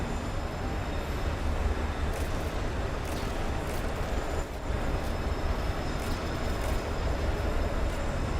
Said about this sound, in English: That train noise is exceptionally loud